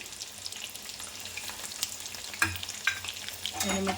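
Garlic and spices fry in hot oil for a tempering in a temple-style pulihora pulusu, giving a steady close sizzle with occasional stirring scrapes and clinks, no talk over it.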